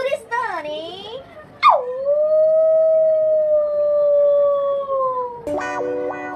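A dog howls in one long sustained, wavering wail after a couple of shorter yelping rises, loud and close, with a brief burst of other sound at the end.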